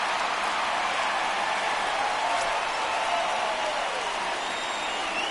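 Stadium crowd in the MLB The Show 19 baseball video game as the Mets catcher Ramos comes up: a steady, loud, hissing roar of cheering that holds level throughout without clear breaks.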